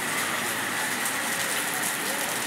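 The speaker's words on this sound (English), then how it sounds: "It is raining." Steady rain falls outdoors, a dense, even hiss of drops on surfaces, constant and close throughout.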